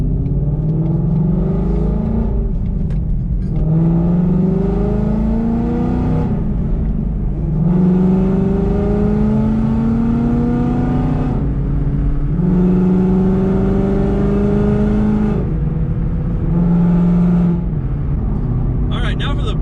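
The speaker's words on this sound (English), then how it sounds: "Oh, it revs up so much faster." A 2018 Ford Mustang, modified to be louder, revs hard about five times in quick succession, each pull climbing steeply in pitch and then dropping back to a deep idle rumble, loud and close throughout.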